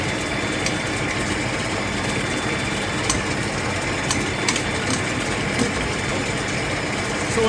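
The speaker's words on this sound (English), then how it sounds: "that accelerator is gonna force the ball down the ramp" A bowling ball accelerator in a surface-testing machine forces the ball down a ramp with a loud, constant mechanical whir and hum, broken by a few sharp clicks and knocks.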